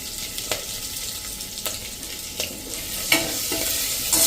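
Chopped green chillies and grated ginger sizzle steadily over a slow flame in a pot for Rajbhog khichdi, a continuous hiss broken by a few soft clicks of a spoon, with no talking.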